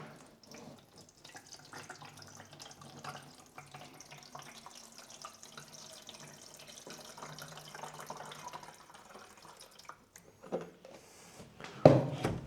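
Tap water runs steadily into a container for several seconds, a soft continuous splashing stream that stays at an even level before it ends with a few louder clunks and handling noises.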